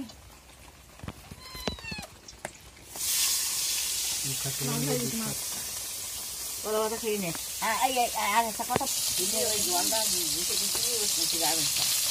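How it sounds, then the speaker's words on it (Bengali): Fish sizzling in a hot pan in a village kitchen, a steady broad hiss that starts partway through and continues, with someone talking over it. "এতটা মাছ আছে, তাই একটু ভাজছি"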